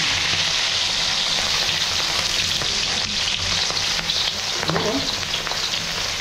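Fish fries in hot cooking oil with a loud, steady, close sizzle throughout, and a brief voice is heard over it.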